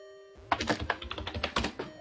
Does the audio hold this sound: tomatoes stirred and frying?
no